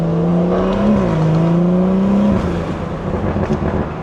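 A stage 2+ tuned BMW 340i downshifts on the road, its engine drone climbing and dipping in pitch before dropping away into a rougher, burbling idle-like rumble heard from inside the car.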